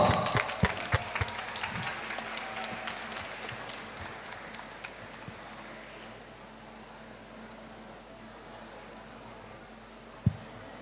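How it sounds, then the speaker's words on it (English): Brief round of applause from an audience at a college fest quiz event, scattered claps at the start that quickly thin out and fade to near quiet, with a single sharp knock near the end. "Give them a loud round of applause"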